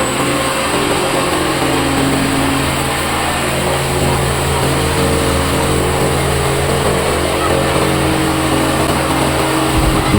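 A rice milling machine husks paddy with a loud, continuous mechanical drone and rattle that holds steady throughout, with the low engine rumble cutting off abruptly at the very end.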